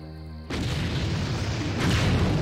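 Cannons firing in the real-time strategy game Empire Earth, a sudden loud boom followed by a dense, sustained roar of artillery and explosions.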